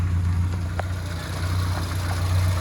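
Close under the bonnet, the 1098 A-series engine of a Morris Minor 1000 convertible idles as it warms up through its HS2 carburettor, giving an even, throbbing low drone with faint light ticks above it.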